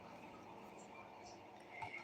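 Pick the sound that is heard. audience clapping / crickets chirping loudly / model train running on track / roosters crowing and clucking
crickets chirping loudly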